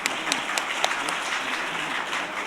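Steady applause from a round-table audience at a human rights forum, a dense wash of clapping lasting throughout with a few sharper individual claps standing out near the front.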